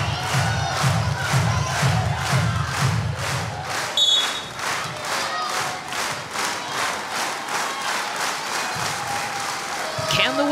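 Crowd at a college volleyball match between Purdue and Michigan roaring at set point in the arena, a loud, sustained wall of cheering with rhythmic clapping and chanting throughout, a commentator talking over it.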